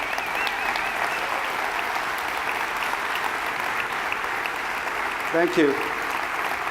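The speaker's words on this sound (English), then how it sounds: "Everybody stands up and give a big round of applause to Univera pioneers." Convention audience applauding the Univera pioneers, steady broad clapping from a large crowd filling the space throughout, with someone briefly speaking near the end.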